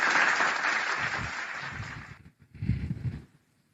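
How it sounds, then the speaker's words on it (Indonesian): Audience applause at an Indonesian religious talk, a moderately loud patter of clapping that fades out after about two seconds, followed by a short low rumble of voices and movement. "Berikan tepuk tangan yang gemuruh untuk Bang Zuma."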